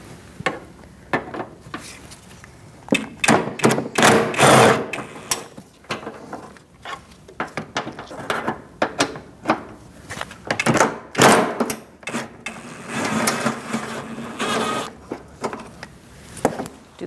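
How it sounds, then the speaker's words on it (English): A ratchet with a 10mm socket removes bumper bolts on a 2008-2014 Mercedes-Benz C300, producing repeated clicking pawl bursts and short metallic rattles, close and moderately loud, in uneven stretches. "We're going to take out these 2 bolts here. There's 2 on this side and 2 on the other side. We're going to use a 10mm socket for that."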